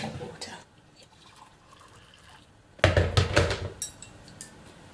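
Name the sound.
boiling hot water poured into a mug of matcha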